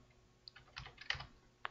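A few separate computer keyboard keystrokes typing a short bone label while rigging a creature armature in Blender, quiet and close, with scattered clicks and no talk.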